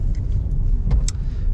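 A 2004 VW Polo with a 1.9 TDI PD100 diesel engine and five-speed gearbox driving, giving a short, close burst of low engine rumble with a couple of brief higher clicks or squeaks on top.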